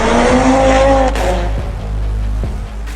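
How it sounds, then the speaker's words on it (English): An old Mercedes car skids loudly and up close, with a sustained tire squeal over engine noise that fades out at the end. "Even with that skid, this old Mercedes didn't feel a thing."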